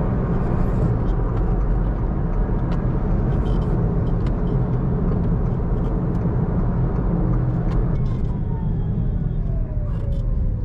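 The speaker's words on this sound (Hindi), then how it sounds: "विंड नॉइज नीचे से भी आना शुरू हो गई है गाड़ी के बॉटम साइड से" Constant broadband roar inside an MG Comet electric car at highway speed, wind and road rumble blended into a steady loud wash with faint rattles, wind noise also coming from underneath.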